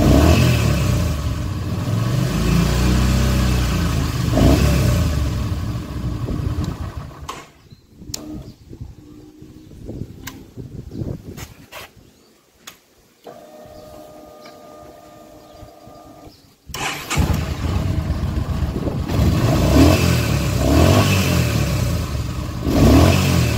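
A Yamaha XVS950A Midnight Star cruiser motorcycle with a newly replaced fuel pump refill runs loudly, then goes quiet apart from clicks and a faint whir, before the engine fires up again abruptly and keeps running with a strong, rumbling idle.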